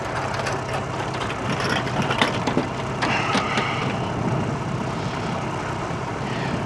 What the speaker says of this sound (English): as you can see now, the engine is running